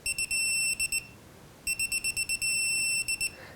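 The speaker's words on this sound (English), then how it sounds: "as you get close, it'll start to beep until you're at 10 foot-pounds" Mac Tools digital torque wrench set to 10 foot-pounds beeping loudly in two bursts of rapid high-pitched pulses and steady tones, with a short pause between them.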